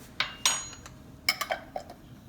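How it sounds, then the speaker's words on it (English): Metal cutlery clinks and clatters sharply several times as a spoon is grabbed from a kitchen drawer or tray, close and bright, without talking. "Let me grab a spoon really quickly"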